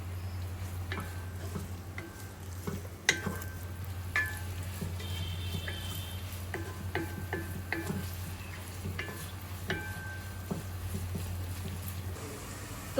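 Onions fry to a light brown in a pan, giving a low steady sizzle with scattered clicks and taps from stirring, close by under a constant background hum.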